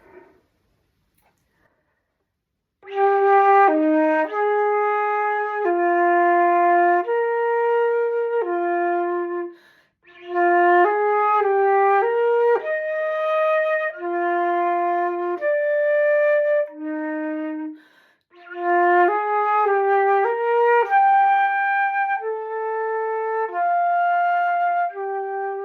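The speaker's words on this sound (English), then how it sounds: "the first instrument I'd like to introduce you to is the flute" A solo silver flute plays clear, pure melodic phrases in three passages separated by short pauses, each note sustained and smooth.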